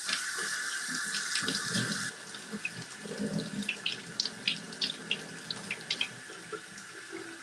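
Tap water runs steadily into a sink as a soapy paint brush is rinsed beneath it, then the stream breaks into uneven splashes and gurgles as the brush is worked under the flow.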